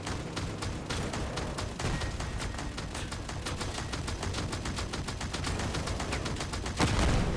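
A video game gun in full auto mode pours out rapid continuous fire, evenly spaced shots in an unbroken stream across the whole stretch, close and loud, with a heavier thump near the end.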